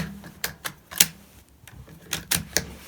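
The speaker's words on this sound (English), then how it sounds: "Being careful when I load them into the BX10 magazine" 22LR rounds pressed one by one into a Ruger BX10 rotary magazine, giving sharp metallic clicks close up, a quick group of clicks, a short pause, then another cluster, no talking.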